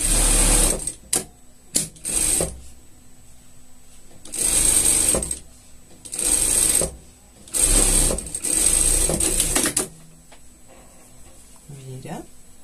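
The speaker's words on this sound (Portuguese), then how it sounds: "E vamos passar uma costura aqui, juntando as duas partes." A sewing machine stitches together two parts of a pet poncho in repeated bursts of whirring, several runs stopping and starting, with brief pauses and handling noise between them.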